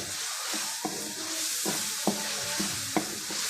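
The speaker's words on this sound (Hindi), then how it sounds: "मसाला आपने बहुत अच्छे तरीके से भूनना है।" Spice masala frying in oil in a pan for a tinda curry, a constant close sizzle broken by several sharp spoon-scraping strokes at a steady, unhurried pace.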